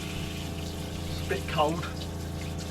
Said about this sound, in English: Sorry about the noise of the pump.